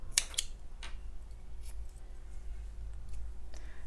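A pair of scissors snips through crochet yarn after a slip stitch and chain, with a few quick crisp cuts near the start, then quiet handling and a faint low hum.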